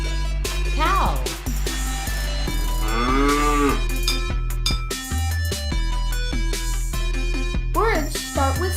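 Cattle low in long, drawn-out moos, with a cowbell clanking alongside and bursts of music and children's voices filling the gaps, all fairly loud and close.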